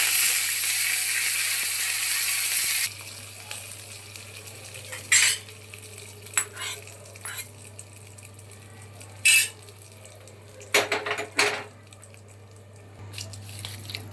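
A tempering of cumin, garlic, asafoetida, curry leaves and chopped coriander sizzles in hot oil for a chutney. A steady hiss opens the clip, then gives way to scattered metallic clinks of a spoon and utensils.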